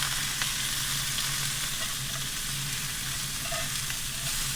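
Meat sears in a hot pan on a camp stove during van camping near Great Basin National Park, giving a steady, dense sizzle that runs unbroken throughout with a faint low hum beneath and no talking.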